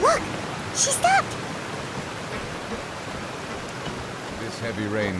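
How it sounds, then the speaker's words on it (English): Heavy rain pours steadily in Genshin Impact, a broad, continuous hiss that sits close and fills the scene, with brief voices and chimes over it at the start and end. "This heavy rain must be quite an inconvenience for you."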